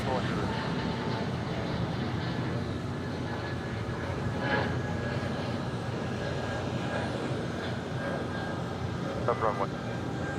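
A DHL cargo airplane at an airport gives a steady, loud engine drone with broadband rumble throughout, joined by a couple of faint brief clicks.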